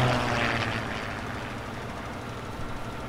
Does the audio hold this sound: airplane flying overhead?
yes